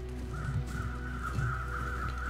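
Crows cawing in the survival video game The Long Dark, a steady chorus of repeated harsh caws over a constant low wind-like ambience, moderately loud and continuous with no talk.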